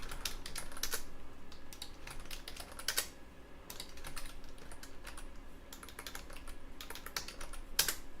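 Rapid typing on a computer keyboard, close and fairly quiet, irregular bursts of key clicks with short pauses between words and occasional heavier strokes.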